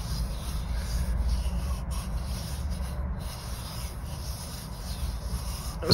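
Steady soft rubbing of an oiled cloth or hand across a carved wooden kuksa cup, a continuous close friction with no pauses and no talk.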